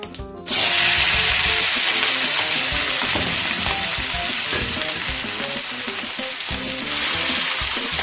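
Vegetables frying in leftover oil in a pan: an abrupt loud sizzle bursts in after a brief quiet moment and holds as a dense, steady hiss, with faint stirring scrapes underneath, no talk.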